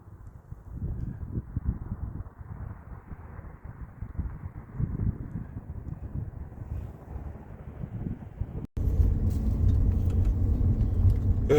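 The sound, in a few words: bus driving through a road tunnel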